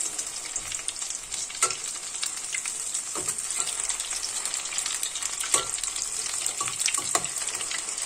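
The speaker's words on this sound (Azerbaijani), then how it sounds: "Belə gördüyünüz kimi artıq kənarları qızarmağa başlayıb, demək çevirməyə hazırdır və ehtiyatla çevirirəm." Steady oily sizzling of potato cutlets frying in a pan, with a few soft clicks and scrapes from turning the pieces; no voices.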